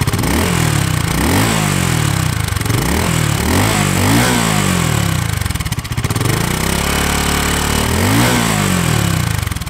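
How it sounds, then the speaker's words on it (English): A BSA Gold Star single-cylinder motorcycle engine under way, loud and close, with a thumping exhaust that rises in repeated gear-by-gear pulls and briefly settles into a steady drone. "it's still got the feel and sound of a single cylinder engine"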